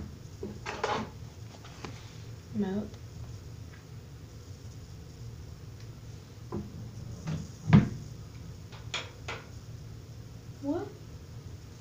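A drawer is opened to reach a fireplace remote, giving scattered clunks, knocks and a louder wooden bang over several seconds while a person talks between the sounds.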